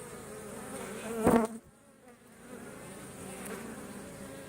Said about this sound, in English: There's a lot of activity coming backwards and forwards from the hive.